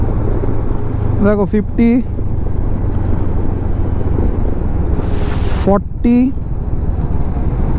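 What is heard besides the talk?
Honda NX 500 motorcycle slowing down in fourth gear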